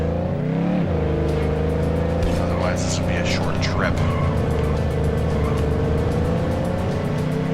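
Car driving in the video game The Godfather: a loud, steady engine drone that revs briefly near the start, with faint squeals partway through, under someone talking.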